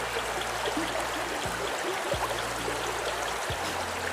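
A small stream of water flows close by with a steady, broad rushing and trickling hiss, constant and uninterrupted, with a few low thumps underneath and no voices.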